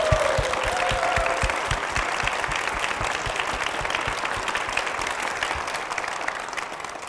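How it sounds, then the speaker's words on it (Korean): A congregation at a Korean Methodist church applauds for its senior pastor and church, sustained steady clapping with a faint voice at the very start, moderately distant. "우리 담임 목사님과 교회를 위해서 힘찬 박수 부탁드리겠습니다"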